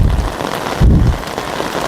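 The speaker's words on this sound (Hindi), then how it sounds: "देखिए किस तरह से बारिश से बचने का प्रयास किया जा रहा है।" Heavy monsoon rain pours steadily onto a mountain trail on the walking route from Haridwar to Neelkanth Mahadev, a dense, close hiss of drops with a brief low rumble partway through.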